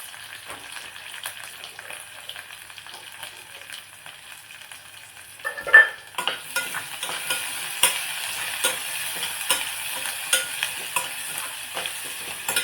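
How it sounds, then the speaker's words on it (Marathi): Onion and curry leaves sauté in a pan of oil. A quiet bubbling gives way to a louder sizzle as stirring begins, with scraping taps continuing throughout. "हे छान आता परतून द्यायचं आहे व्यवस्थित"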